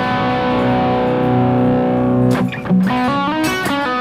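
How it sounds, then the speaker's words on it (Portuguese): Electric guitar played through a Boss ME-25 multi-effects unit with mild, controlled distortion and a subtle delay, sustained chords ringing and then a few quicker picked notes, loud and close with no talk. "Distorção com não muito ganho, mais controlada, mas que eu curto bastante."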